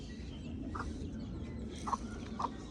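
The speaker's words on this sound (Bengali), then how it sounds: "এইগুলো আমার মোরগ।" Pet roosters clucking nearby, three short soft clucks spaced over a few seconds against a faint background hum.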